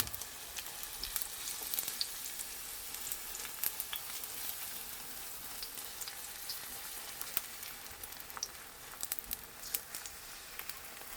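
Kimchi pancake with green onion, onion and egg frying in soybean cooking oil, a steady close sizzle with scattered pops and crackles, no talk.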